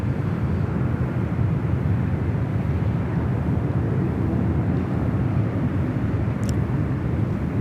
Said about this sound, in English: we got the Capital A330 joining us there on runway 34 left